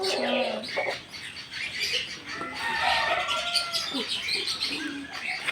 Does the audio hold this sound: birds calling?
yes